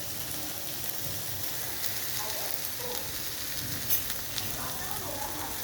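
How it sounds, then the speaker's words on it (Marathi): Mixed vegetables sautéed in a wok give a dense, continuous hiss of frying with faint scraping and stirring beneath it, heard close and steady throughout with no voices. "ही सर्व भाजी मी या बोटमध्ये घातली आणि आता छान परतून घेतला"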